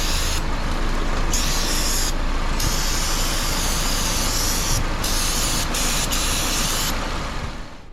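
A pressure sprayer blasts continuously at the oil pan of a Subaru Forester 2.5 engine, a loud, close hiss that breaks up briefly several times before tapering off at the end.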